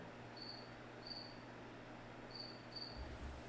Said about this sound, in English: I have a feeling I have a cricket in this garage